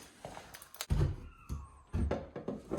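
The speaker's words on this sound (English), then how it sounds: "We've got a sticky door up there." A sticking door gets pushed and thuds in its frame, giving a few dull knocks at irregular intervals, fairly close, with faint squeaks and rubbing between the hits.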